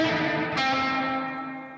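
A sustained, distorted electric guitar chord washed in reverb, with the reverb placed before an overdrive pedal, ringing out with a gritty, saturated tail that slowly fades.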